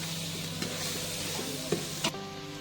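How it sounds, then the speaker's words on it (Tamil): Tomatoes for chicken biryani sizzle steadily in a pan while a spoon stirs them, with a few soft scraping knocks and no talking. "1/2 கிலோ தக்காளி சேர்ப்போம். நல்லா வதக்கணும்."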